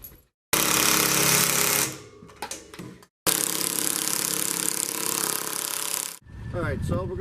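A power tool drives bolts into the rear roof rack brackets on a Land Rover LR3, with two loud bursts of rapid rattling hammering separated by short pauses and a quieter chatter between them. A voice is briefly heard at the end.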